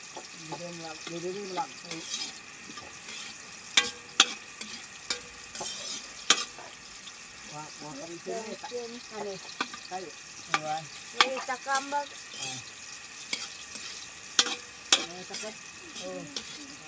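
Onion and garlic sauté in a pan with steady sizzling, broken by frequent stirring and scraping clinks. Voices talk over the cooking throughout.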